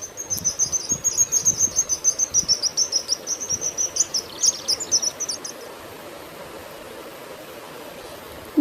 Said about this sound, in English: Sparrow, Goraiya